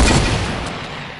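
A hunting rifle fires in a video game: one loud, close, booming blast that rolls off and fades over about a second, with no voices.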